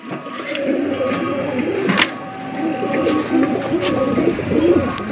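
Racing pigeons cooing in a loft in low, rolling calls, several birds overlapping steadily with occasional wing flaps and soft clatter nearby.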